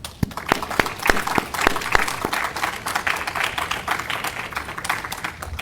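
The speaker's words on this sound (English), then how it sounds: "Please join me in another warm round of applause for our speakers and our award winners today." An audience applauds speakers and award winners at a university president's annual report and excellence awards event: steady, sustained clapping from a room of people, with a few sharp nearby claps standing out early on.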